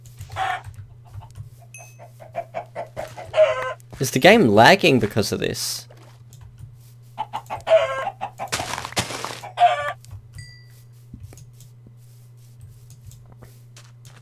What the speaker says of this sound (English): Oh, let's get some chicken.